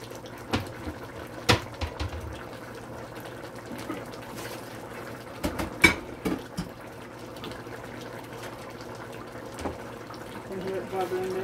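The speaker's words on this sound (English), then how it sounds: "You can hear it bubbling there." Collard greens with smoked turkey legs simmer in a pot, with faint, scattered bubbling pops over low background noise while a person talks nearby.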